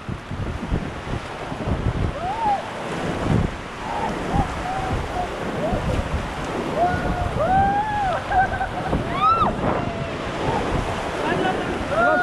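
Churning river rapids on the Ganges at Rishikesh surge and splash around a paddled raft in a loud, constant rush, while voices shout over the water.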